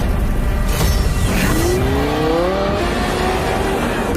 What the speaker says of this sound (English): Based on the progressive roar of the engine.